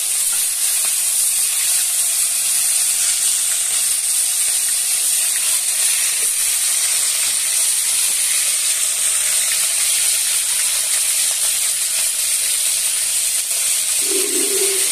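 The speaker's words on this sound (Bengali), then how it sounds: "এই যে মাংসটা লবণ হলুদ দিয়ে মাখানো ছিল, এবার আমি কড়াইয়ে ভাজবো" Chicken pieces marinated in salt and turmeric sizzle steadily in a hot kadai, a constant loud hiss of frying oil running unbroken throughout with no voices.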